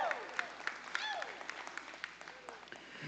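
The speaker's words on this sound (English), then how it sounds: "Let's give these animals a round of applause and their exhibitors as well for the youth show." Crowd applause at a youth dairy goat show at the Nebraska State Fair, a light, moderately distant patter of clapping with scattered sharper claps and some faint voices mixed in.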